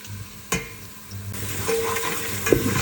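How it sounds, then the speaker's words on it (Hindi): Onions, garlic and cumin seeds fry in a pan with a steady close sizzle. A couple of sharp utensil knocks and stirring scrapes sound over it, and no one speaks. "मैंने इसमें गार्लिक डाल दिया है और ज़ीरा डाल दिया है ताकि वो भी अच्छी तरह भुन जाएँ"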